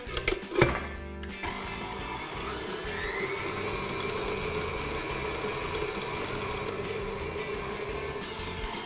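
An electric stand mixer runs on medium speed beating cupcake batter made with butter and two large free-range eggs, a steady whirring motor hum after a brief clatter at start-up, close and continuous without talk.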